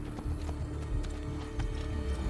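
Horse hooves clip-clop in a steady rhythm in Assassin's Creed 2, a game scene with hoofbeats moderately close over a low ambient bed, no talk.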